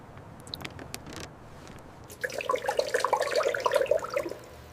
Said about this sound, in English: Multiple flushes before this engine even thinks about starting.